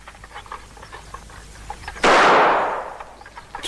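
A single loud rifle shot bursts out sharply and close, then rings and decays over about a second against a quiet outdoor background.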